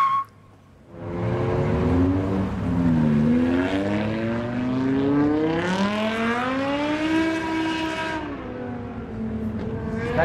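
A BMW drifting on a street, its engine roaring up and revving hard with rising and falling pitch, loud and close, sustained for several seconds before easing off.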